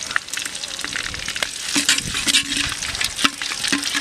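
Ghee sizzling and crackling in a clay pot while chicken biryani is being prepared, close and lively, with stirring scrapes and faint clinks breaking through the steady fry.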